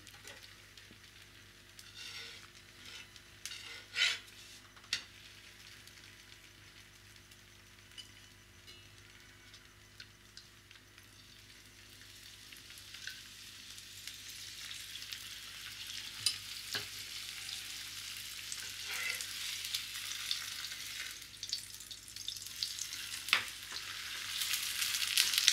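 A fenugreek-filled methi paratha fries in a hot frying pan, a low, faint sizzle that gradually grows louder and denser, with occasional clinks and scrapes of a utensil.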